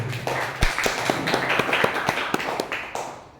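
Scattered hand claps from a school gathering during a discussion on school vision and change, a loose patter of taps and claps rather than full applause, fading out toward the end.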